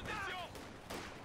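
Two M8A1 armoured vehicles fire into infantry during a D-Day battle in a video game, a quick cluster of gunfire bursts over a brief second, with voices faintly present.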